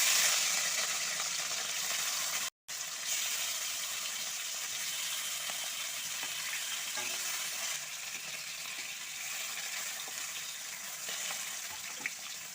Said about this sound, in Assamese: এতিয়া মেৰিনেট কৰি থৈ দিয়া মাছখিনি ভাজি লওঁ।